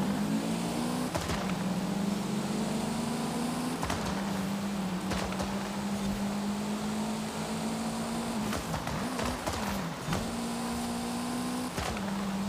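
A Lancia Delta Integrale Evo in Forza Horizon 5, rally-tuned and racing on a circuit, its engine a steady loud drone with shifting pitch and occasional sharp shifts or bumps, no voices.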